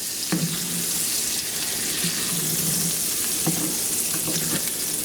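Food sizzles steadily in a hot pan on a home kitchen stove, a continuous close crackling hiss with a few brief utensil scrapes or stirring knocks, and no talking.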